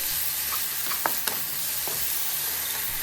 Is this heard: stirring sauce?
yes